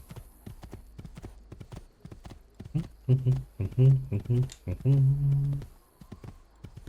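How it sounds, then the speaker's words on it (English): A horse in Assassin's Creed II clip-clops along in a quick, steady hoofbeat that runs throughout, while in-game characters speak over it. "why am I not using my fucking horse?"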